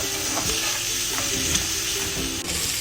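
Chopped tomatoes with salt sizzling in a pan for brinjal bharta while a spoon stirs them, a steady frying hiss with soft scraping knocks scattered throughout.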